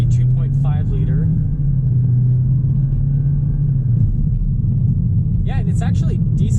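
A 2019 all-wheel-drive Nissan Altima with its 2.5 liter engine pulls under acceleration, a low steady engine rumble and road drone heard from inside the cabin, with someone speaking briefly at the start and end.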